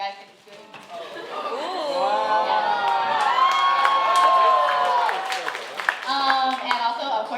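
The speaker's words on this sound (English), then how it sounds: "another round of applause for all the performers" At a Vietnamese cultural night performance, a crowd erupts into loud cheering, whoops and shouting with clapping, swelling and holding for several seconds before tapering; voices chatter through the noise.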